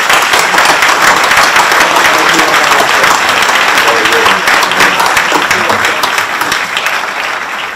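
Loud, dense audience applause at a panel discussion on Greek shipping and global trade, sustained clapping close and continuous throughout, gradually easing toward the end.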